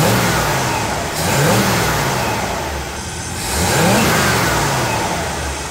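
A Chevrolet C10 engine, timing set at 12 degrees, rises from idle to full throttle in repeated loud revving swells that fall back between pulls, close by and alone.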